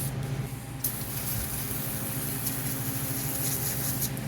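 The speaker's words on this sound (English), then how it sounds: "I think we'll spray it off with some of that just to finish it." Degreaser hisses in a steady, close spray while a John Deere MT tractor is cleaned, with a low mechanical hum running underneath throughout.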